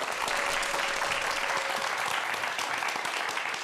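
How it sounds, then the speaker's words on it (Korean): Studio audience applauding to welcome a guest, a dense, even burst of clapping from many hands that stays loud and steady throughout, with no voices rising above it. "큰 박수로 환영해 주세요."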